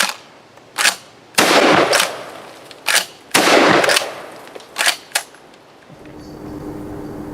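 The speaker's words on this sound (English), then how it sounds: "that was my first time really ever shooting mini shells" A Benelli Supernova LE pump shotgun fires 1 3/4 inch Aguila double-aught mini shells outdoors, several loud close blasts with rapid action clacks between shots, ending in quiet ambience.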